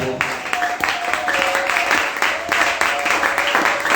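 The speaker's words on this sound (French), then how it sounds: "Est-ce qu'on peut acclamer pour le roi?" A church congregation applauds and cheers for the king, with a rapid, dense run of clapping close by and voices calling out over it throughout.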